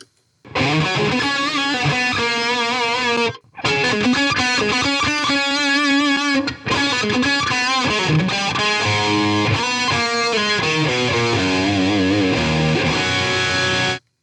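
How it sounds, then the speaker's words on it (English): Distorted electric guitar through a Positive Grid BIAS FX Desktop plate reverb, with EVH 5150 III and M50 Plexi amp models; chords and notes ring out with a lush, shimmering tail, loud and continuous with two brief pauses. "here's is a plate reverb"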